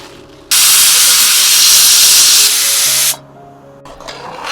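A pressure cooker cooking khichdi on a stove in a camper van lets out one loud, sustained hiss of steam lasting about two and a half seconds, then cuts off sharply to quiet room sound.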